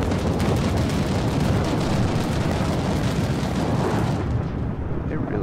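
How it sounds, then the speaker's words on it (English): Continuous heavy rumbling from carpet bombing explosions in the tank game Armored Warfare, a dense roar of overlapping blasts that eases slightly near the end. "They're really carpet bombing their own team."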